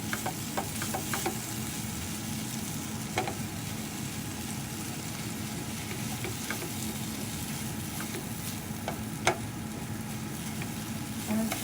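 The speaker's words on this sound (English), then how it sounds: "And this is still boiling" Black chickpea curry (kadala curry) simmers in a pot, a continuous soft bubbling hiss broken by scattered small pops and clicks. It is fairly close and steady, with no voices over it.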